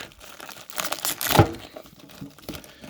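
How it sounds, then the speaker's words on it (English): A loosely sealed mail package crinkles and is ripped open by hand, with one short, sharp tearing burst in the middle amid quieter rustling. "They didn't really seal this up that well, so I'm just going to rip it a little bit here."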